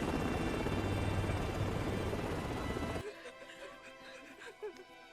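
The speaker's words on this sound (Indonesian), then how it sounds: "helikopter pun pergi meninggalkan tempat tersebut" A helicopter flying away in a war film scene, its loud broadband rotor roar filling the first three seconds, then cutting to a quieter scene with light background sounds.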